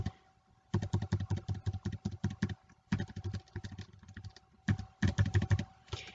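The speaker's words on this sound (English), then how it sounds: "let's just use the arrow keys. Hold shift," Computer keyboard arrow keys are pressed in rapid bursts while shift is held, producing close, crisp clicking in several quick clusters separated by short pauses, with no talking.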